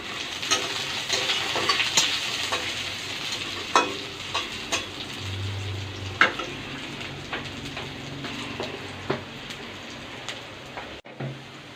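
Ginger garlic paste and dried chilies fry in a hot pan with a loud, continuous sizzle and crackle. Occasional scrapes and knocks come from stirring, with no voices.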